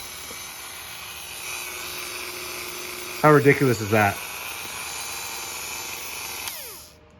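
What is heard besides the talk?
rotary tool motor running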